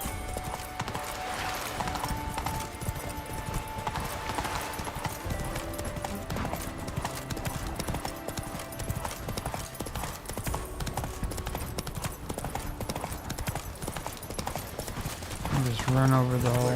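Roach, Geralt's horse in The Witcher 3 video game, gallops steadily through a city with a continuous run of hoofbeats over game music and ambient crowd noise, with voices speaking at times.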